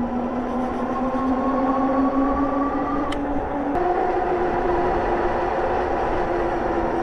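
An electric scooter's 500 watt hub motor on a Hiboy EX6 pulls up a small hill under throttle, giving a steady, close whine with a rising tone that steps down partway through, over constant wind and road rumble.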